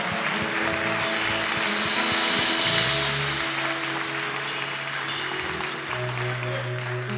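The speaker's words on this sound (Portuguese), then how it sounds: "Quem concorda, aplauda bem forte ao Senhor." A church congregation applauds at an anniversary service, sustained clapping spread over sustained organ or keyboard tones.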